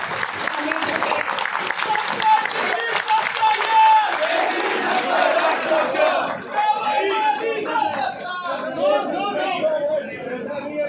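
A crowd at a political party press conference chants and shouts slogans loudly and continuously, mixed with clapping and overlapping voices throughout.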